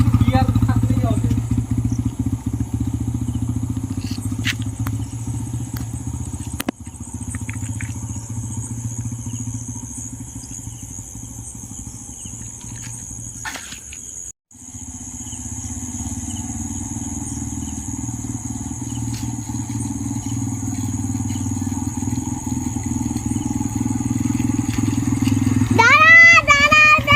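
A motorcycle running under a rider shifting gears, a loud steady engine drone that dips briefly and swells toward the end, with someone talking over it.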